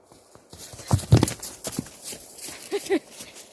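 A mustang's hooves clip-clop irregularly on hard ground nearby, with a few louder thumps and shuffling movement, and a person speaks briefly.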